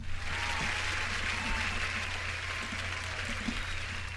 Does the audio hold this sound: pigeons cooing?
no